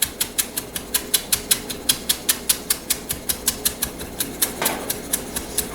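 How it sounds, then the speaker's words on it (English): A razor-sharp knife slices fresh basil into very thin cuts on a board, making a steady run of about thirty crisp, evenly spaced taps, close and distinct. "we're going to hold it really tight and we're going to cut it microscopic thin cuts like this."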